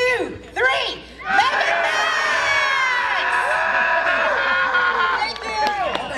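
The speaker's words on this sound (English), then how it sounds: "On the count of three, we're gonna yell Megamex. Everyone together." At the K16 fall festival, an outdoor crowd shouts the boy group's name Megamex in unison after a countdown. A sharp collective yell swells into several seconds of sustained cheering, whoops and high-pitched screams, then fades.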